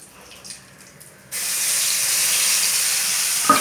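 Spices sizzling in a little oil for a Bengali fish curry, a loud steady frying hiss that bursts in suddenly after a quieter start and holds to the end.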